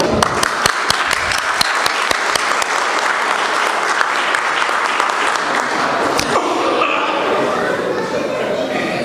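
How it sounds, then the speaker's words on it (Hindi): Audience applause rings out at a mushaira poetry recital in Sharjah, loud and sustained for several seconds with dense clapping, then easing into a softer crowd wash near the end. "तालियां दें"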